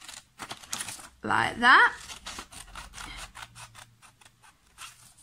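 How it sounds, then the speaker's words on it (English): Scissors snipping through a paper circle to cut out a quarter for a craft cone, a brief spoken phrase followed by a quick run of close, crisp, rhythmic cuts. "I'm going to cut about a quarter out"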